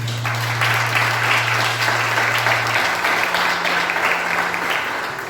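Congregation at a church service applauding, with close, loud and sustained clapping from many people and a low steady hum beneath that shifts partway through.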